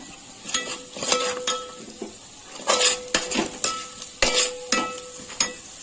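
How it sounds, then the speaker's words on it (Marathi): Onion frying in a pan until browned for vegetable pulao, with a soft sizzle under repeated metallic clinks and scrapes of a spoon against the pan in an uneven rhythm, close and clear, no talking. "कलर येईपर्यंत त्याला परतवून घ्यायचा आहे। कांदा आपला फ्राय झालेला आहे"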